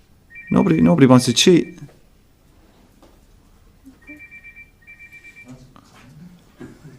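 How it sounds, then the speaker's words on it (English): A mobile phone rings in a room during a heated discussion, its tone sounding twice in short bursts after someone speaks loudly. "Whose phone is that? That's the second time it's gone off."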